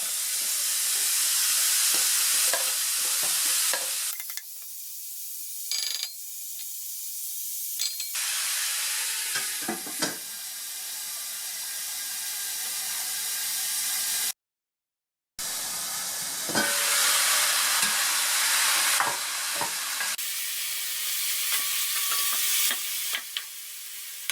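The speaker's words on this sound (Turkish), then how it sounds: "Önce etlerimizi tavamıza alıp suyunu çekene kadar pişmesini bekliyoruz." Meat cooking in a pan until its juices evaporate gives off a steady, loud hissing sizzle with steam, broken by occasional clinks and stirring noises and one brief dropout.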